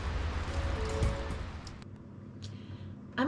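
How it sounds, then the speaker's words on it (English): Rain falls during a wet provisioning day aboard a Nordhavn 55 motor yacht in Juneau, a dense steady hiss that is heavy at first and then thins to a softer patter, with a faint hum underneath. "So of course, it's raining."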